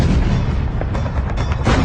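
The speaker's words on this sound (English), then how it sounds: "2 miles away, U.S. gunfire tears the ridges and buildings of Troina to pieces." World War II 155mm howitzers fire on the Sicilian town of Troina, heavy booming artillery blasts that overlap in a loud, dense barrage with rumbling echoes throughout.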